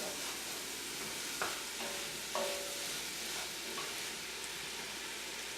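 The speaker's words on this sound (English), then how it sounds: "Stir it." Chili soup gets stirred in a pot, with a steady low sizzle and a handful of soft scraping knocks from the spoon spaced across a few seconds, close and quiet with no talking.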